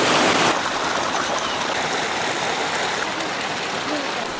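Water runs steadily through the irrigation channels of flooded rice terraces and spills from higher terraces to lower ones, a continuous broadband rushing that stays close and even from start to finish.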